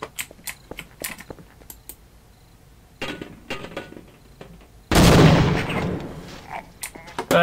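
Gunfire in the 1998 video game Half-Life, with a sniper firing from above among sharp scattered shots and clicks, then a loud burst and rumbling blast near the middle that lingers to the end.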